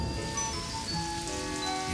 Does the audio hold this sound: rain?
yes